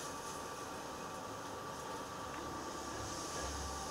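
A Tokyo Metro Marunouchi Line 02 series subway train running along the line, giving a steady, continuous rumble and rushing noise that stays even throughout, with no talking.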